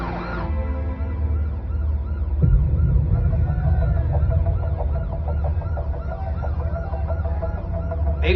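An ambulance stuck in traffic sounds its siren in a movie scene, a loud, continuous wailing tone cycling up and down, close by, over a low rumble of road traffic.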